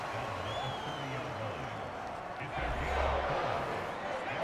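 A football stadium crowd roars as the home fans urge on their defense on third down, a broad swelling rumble of noise under a commentator's voice, louder toward the end.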